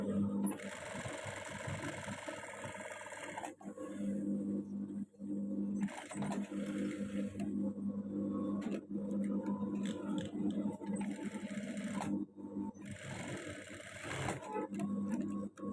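Sewing machine stitching fabric for a women's uniform garment, a steady close mechanical whir running in long bursts separated by brief pauses, with no talking.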